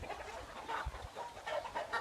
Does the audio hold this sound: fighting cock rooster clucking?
yes